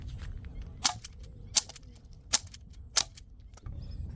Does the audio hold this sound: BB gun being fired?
yes